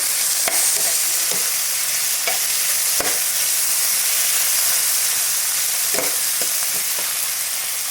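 Red onion frying in a pan makes a steady, loud, even sizzle, with occasional soft clicks of stirring and no voices.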